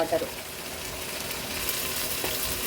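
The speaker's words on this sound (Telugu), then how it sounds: "వాటర్ బాయిల్ అవుతున్నాయి" Salted water for biryani boils in a pot with a steady bubbling hiss, close and continuous, a faint clink near the start.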